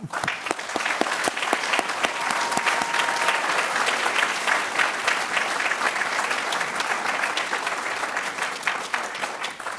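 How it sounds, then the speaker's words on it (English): A large audience at a university business school doctoral commencement bursts into sustained applause for the graduating doctors, starting with a few distinct claps and swelling into a dense, steady roar of clapping that holds loud and even throughout. "let's all join in a round of applause for our great doctors"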